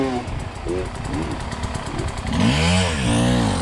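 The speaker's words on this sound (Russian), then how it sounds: "а я уже завел мотоцикл" Enduro motorcycle engine running and revving off-road, rising and falling in pitch with a sharp rev swell near the end, loud and close with wind noise over it.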